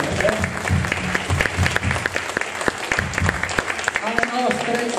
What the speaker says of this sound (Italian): facciamo un applauso a tutte le donne